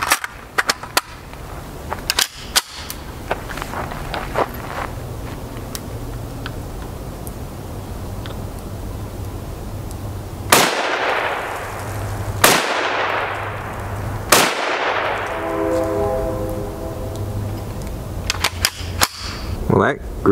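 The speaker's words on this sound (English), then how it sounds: "We'll take 3 shots with SS-198 while we're here just to see what that's like." Three loud, sharp 5.7x28mm gunshots using SS-198 ammunition at a shooting range, spaced a couple of seconds apart, each with a ringing decay, followed by metallic clicks.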